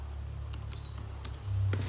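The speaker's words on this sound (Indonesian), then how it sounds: "kita akan mengidentifikasi dengan mengetik uami, siapa aku" Someone types the whoami command on a computer keyboard, a few scattered soft key clicks tapped close by over a steady low electrical hum.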